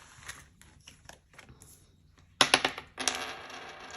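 Dice rolled for a UK cash stuffing bingo challenge, clattering as a quick burst of sharp, close rattling impacts followed by a denser tumbling rattle, after quieter handling sounds.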